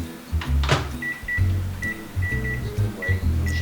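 A microwave oven running while heating water in a home kitchen: a low steady hum with intermittent buzzing and faint tonal whines, moderately loud and close, with a brief clatter near the start and no talk.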